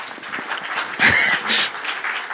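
Audience at a mobile game industry panel in Asia breaking into applause: a short, moderate burst of clapping from a seated crowd in a hall, with a couple of louder swells and no speech.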